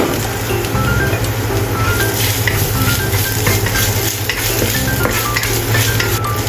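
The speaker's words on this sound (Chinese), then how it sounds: "炒香姜末" Minced ginger stir-fried in a wok, a steady loud sizzle with scraping stirs and light metallic clinks of the utensil against the pan, no talk.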